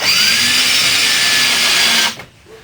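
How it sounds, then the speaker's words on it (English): Power drill driving a screw up through a countersunk hole into the arm of a ready-to-assemble wooden Adirondack chair, a close, loud, steady high whine lasting about two seconds before cutting off abruptly. "Take your screw and screw from underneath in the countersunk hole that's there."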